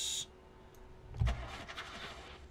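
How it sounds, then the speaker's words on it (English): In the horror video game Anxiety: Lost Night, a car's engine cranks and fails to start: a brief electronic chime, then a low thump and a short, scratchy cranking burst that fades into a quiet, uneven rattle, with no voices. "I should start the car again."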